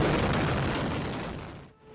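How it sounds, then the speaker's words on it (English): A wave of cluster bomb strikes rips down a city street in the Azerbaijan–Armenia conflict, a dense continuous roar of overlapping blasts that stays loud before briefly dropping away near the end. "Several cluster bomb strikes rips down the street."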